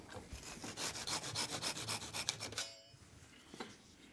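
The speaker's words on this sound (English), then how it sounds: "I'm just going to use a little pull saw miter box to cut it to length." A small pull saw in a miter box cuts a piece of wood to length with a quick run of rhythmic rasping strokes, close and fairly quiet. The sawing stops abruptly, and a faint tap follows.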